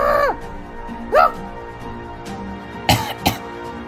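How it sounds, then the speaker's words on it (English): A person lets out a couple of short, sharp coughs near the end, after some brief strained vocal sounds and quiet background. "I'm coughing."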